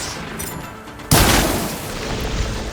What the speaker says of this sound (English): it looks like Zoe's giving us some supporting fire.